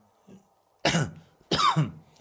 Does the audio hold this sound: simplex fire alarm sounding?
no